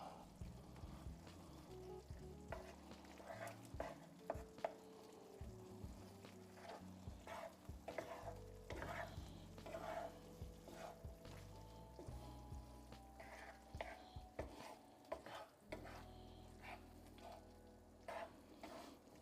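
Food fries in a pan while being stirred, quiet scraping and shuffling over a soft sizzle with clinks and small pours in a home kitchen, no voices.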